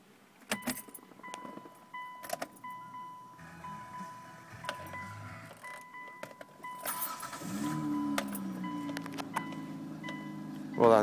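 A 2005 Hyundai Tucson V6 4WD with 197,000 km is started: keys jangle, the starter cranks and the engine catches into a steady idle, recorded close up inside the vehicle.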